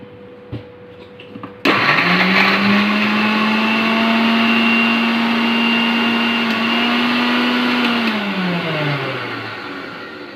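An electric mixer grinder crushing cake ingredients switches on abruptly, then runs at a loud, steady whir for several seconds before winding down as it slows, with no talking.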